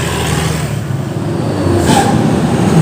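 An economy-class bus rolls past at night near the Jati Seeng roundabout in Ciledug, Cirebon, a broad steady engine rumble with traffic noise that swells and grows louder toward the end, nearby and alone without talk.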